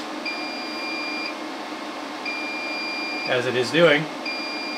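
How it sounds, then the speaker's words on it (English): A BougeRV 2000W 12V power inverter's overload alarm beeps in long, evenly spaced high tones over a steady hum, with someone speaking briefly between beeps. "I imagine the inverter is going to alarm"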